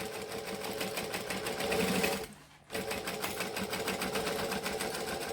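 Close, loud whirring of a sewing machine stitching a bag seam back and forth, with one brief stop partway through before the rapid needle rhythm resumes.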